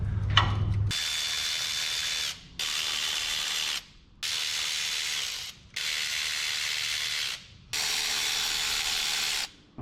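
A ratchet tool whirs in five loud, close bursts of rapid clicking, each lasting over a second with short pauses between, loosening a bolt during a Toyota clutch job.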